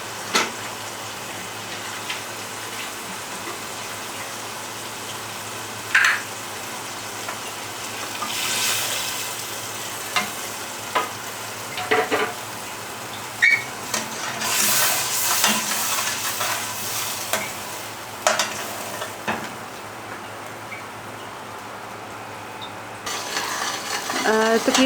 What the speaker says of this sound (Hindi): ख्याल रहे कि बिल्कुल दरमियानी आंच में इस मसाले को हम भूनेंगे।